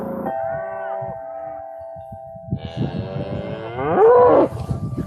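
Cattle moo repeatedly at close range, long drawn-out low calls from a large herd being moved between small temporary-fenced grass paddocks on a pasture, with overlapping rising bellows growing louder near the end.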